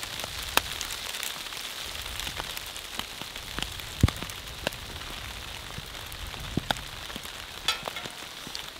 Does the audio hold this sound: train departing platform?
no